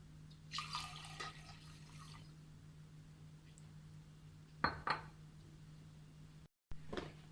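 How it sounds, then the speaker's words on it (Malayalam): Water added to a pot of red chawli beans for a Kerala-style curry: a few short, faint splashing pours and drips over a low steady hum, heard close with gaps between. "നമുക്ക് കുറച്ചും കൂടി വെള്ളം ചേർത്ത് കൊടുക്കാം"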